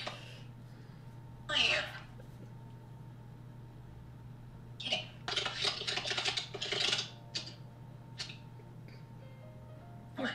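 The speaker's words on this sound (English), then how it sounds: "Our keyboard is so loud." Loud computer keyboard typing comes in quick clattering bursts, one brief flurry early and a denser run in the middle, close to the mic, with a steady background hum and some voice in between.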